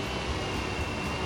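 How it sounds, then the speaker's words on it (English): Cheap camera drone flying, a steady, dense whirring drone of small propellers, continuous and fairly close for a brief moment with no talk. "the last we're gonna see this is a drone because Tanner's flying it"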